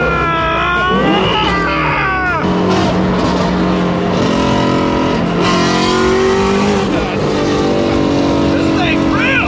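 A 2020 Ford Mustang GT350 with full bolt-ons and a custom dyno tune accelerates hard, its engine revving up loud and close through several rising sweeps and gear changes, with a voice talking over it.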